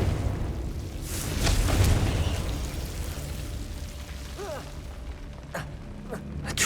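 In the Hogwarts Legacy video game, a Confringo spell explosion erupts as a low, rumbling blast that swells and fades, followed by scattered crackles and smaller impacts under continuous background noise.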